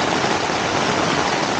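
Heavy rain pours down at a campsite as a dense, steady hiss with no letup and no voices over it.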